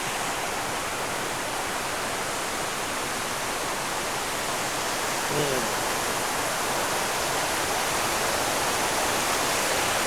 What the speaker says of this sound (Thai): ดูครับสภาพของน้ำตก